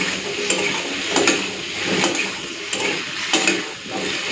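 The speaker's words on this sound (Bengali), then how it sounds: "চলুন এরপরে আলুটাকে একটুখানি ভেজে নিই" Steady sizzling of potatoes frying with turmeric in a pan, with occasional scrapes and clinks of a utensil stirring against the metal.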